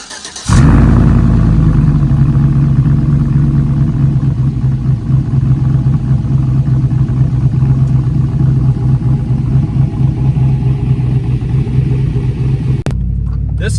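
A cammed Chevrolet Silverado pickup engine fires up and holds a loud, steady, lumpy rumble close by for most of the stretch, then cuts off abruptly near the end.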